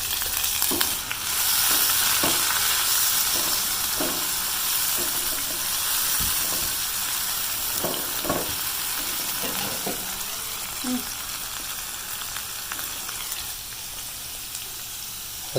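Daal mash fries in a pan just after water is added, giving a loud, continuous sizzle and hiss with occasional stirring scrapes and clatter, and no talk.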